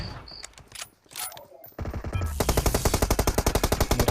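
Rapid automatic-style gunfire in PUBG Mobile, near-continuous bursts that rise in the second half into a dense, rhythmic stream of loud shots, with scattered game sounds before.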